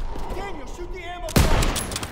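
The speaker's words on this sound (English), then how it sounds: "Daniel, shoot the ammo." Gunfire in the WWII shooter game Call of Duty: WWII, a loud burst of shots erupting partway through after a stretch of voices, then continuing as dense battle noise.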